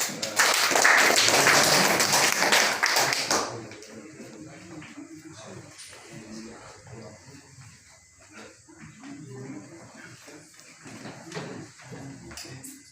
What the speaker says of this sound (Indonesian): Baik, terima kasih, kita beri aplaus.